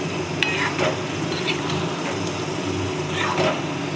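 Mutton and chicken frying side by side in a pan, a continuous loud sizzle with occasional scrapes of stirring, no voices.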